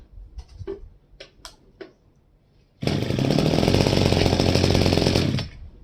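A few short pulls and clicks, then a Zenoah BCZ260 brush cutter engine bursts into a loud, steady buzzing roar for a few seconds before cutting off.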